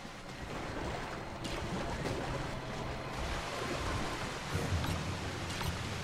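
A waterfall in the video game Bioshock 2 Minerva's Den roars as a steady, dense rush of falling water, filling the whole stretch without pause at moderate loudness.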